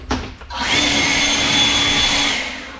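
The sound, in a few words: air blower cleaning a Kubota BX radiator screen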